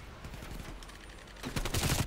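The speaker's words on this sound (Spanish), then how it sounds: "Aquí entran los disparos" Gunfire in the video game Call of Duty Black Ops Cold War crackles as rapid bursts of shots, fainter at first and then a louder, denser volley near the end.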